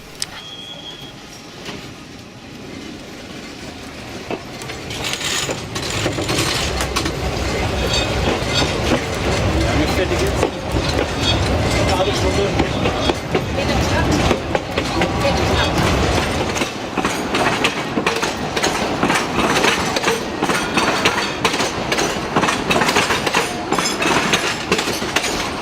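A narrow-gauge Sóller railway train on Mallorca runs with a close, continuous rumble and rhythmic wheel clatter that grows louder after the first few seconds.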